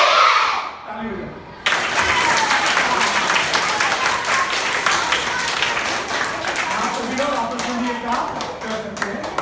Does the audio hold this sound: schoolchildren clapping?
yes